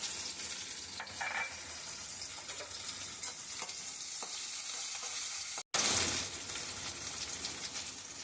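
Chopped raw onion sizzles loudly and steadily in a hot pan, with occasional stirring scrapes and one brief cutout near the end.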